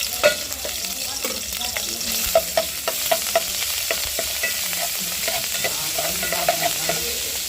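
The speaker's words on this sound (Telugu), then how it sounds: "అల్లం వెల్లుల్లి పేస్ట్ బాగా ఫ్రై అవుతున్నప్పుడే ఆనియన్స్ వేసుకుందాం" Ginger garlic paste fries in well-heated oil, crackling under a busy run of sharp spatula scrapes and taps against the pan, near and fairly loud, with no talking.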